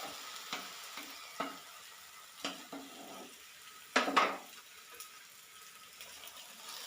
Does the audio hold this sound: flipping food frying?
yes